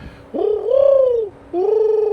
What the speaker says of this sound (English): I don't know what bird is making that sound.